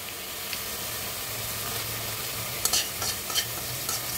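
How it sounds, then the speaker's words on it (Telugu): Poppy seeds and whole spices such as star anise, cumin and cinnamon dry-roasting in a pan, a soft steady hiss with a few light scrapes and crackles of stirring near the end. "ఇప్పుడు నేను గసగసాలు వేస్తున్నా"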